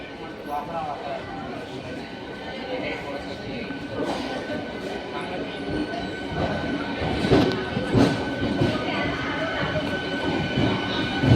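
Rumbling passenger train interior with continuous rolling wheel noise and occasional clanks, a voice speaking over it throughout.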